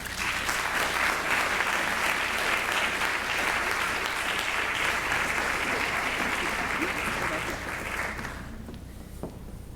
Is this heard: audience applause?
yes